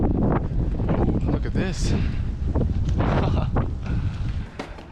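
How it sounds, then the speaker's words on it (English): Gusty wind buffeting a microphone during a bicycle ride in Laos, loud low rumbling bursts that rise and fall, with someone speaking briefly over it. "It's windy today."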